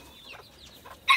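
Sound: chickens clucking

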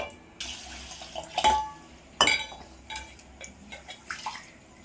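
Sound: washing rice and moong dal in water

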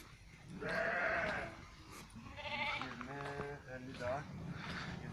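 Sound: sheep bleating

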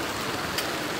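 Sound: rain falling in town centre

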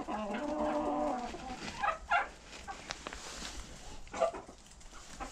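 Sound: silkie hen

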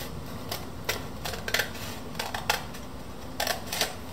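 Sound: scissors cutting paper

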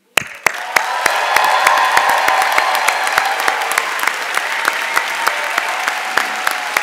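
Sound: audience applause at commencement ceremony

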